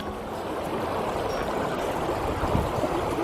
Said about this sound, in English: We cross Evolution Creek.